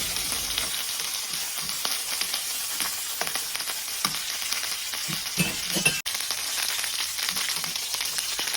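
Chicken legs sizzle and fry steadily in a hot pan, a continuous close crackling hiss with occasional stirring scrapes and a brief interruption, no voices.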